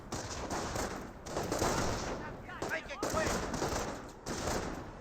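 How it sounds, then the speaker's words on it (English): Video game gunfire around a garrison in Company of Heroes, dense overlapping rifle and machine-gun bursts crackling continuously, moderately loud and broken by short gaps. "Panzer Grenadiers received quite a bit of fire there."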